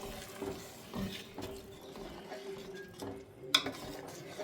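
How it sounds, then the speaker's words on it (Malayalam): Ada pradhaman payasam being stirred in a pot, with faint scraping and bubbling and a few light knocks of the spoon, one sharp clink near the end. "ഒന്ന് ഇളക്കിയേ നീ ഇളക്കണം ഇവിടെ"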